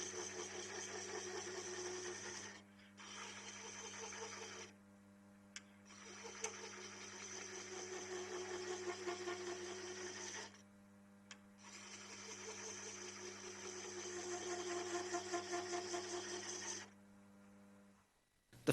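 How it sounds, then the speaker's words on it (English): A wood lathe turns steadily while a 10 TPI thread cutter cuts a long wooden thread, a continuous whirring hum broken by a few short pauses before stopping at the end. "We are planning to cut a long thread, but the cutting action remains the same."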